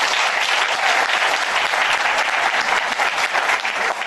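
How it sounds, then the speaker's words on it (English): Sustained applause from an audience of contestants at a talent competition, a dense, even wash of many hands clapping that carries on for several seconds without voices. "So give yourselves a round of applause."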